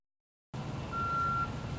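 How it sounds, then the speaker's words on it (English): A truck's reversing alarm sounds one steady electronic beep over a continuous engine rumble and outdoor noise. The clip opens with a moment of silence, and no talk is heard. "The beeps only signal the beginning."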